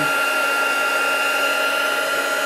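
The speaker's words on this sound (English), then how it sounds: "When embossing in vellum, it's always a good idea to keep the embossing gun" An embossing heat gun blows on vellum with a steady, loud, close rushing whoosh and a faint high whine, unbroken throughout.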